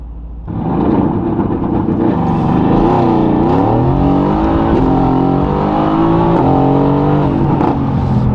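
A Mercedes-AMG GT S engine revs hard and accelerates steadily with traction control engaged, its pitch rising and wavering as power is cut back and restored, loud and close throughout.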